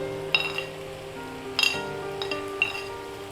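A spoon stirring vegetable curry in a pan, with a few sharp metallic clinks against the pan over a low sizzle across three seconds.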